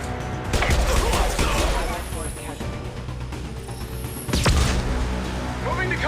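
Heavy gunfire in the Mass Effect video game: dense, loud, sustained bursts of shots and impacts, with a sharp crash midway, under a character's voice.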